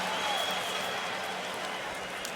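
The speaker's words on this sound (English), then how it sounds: "Crowd here appreciates his effort." Stadium crowd at a college football game, Miami Hurricanes against Florida State, applauding and cheering as a steady, dense wash of noise throughout, with a broadcaster's voice over it.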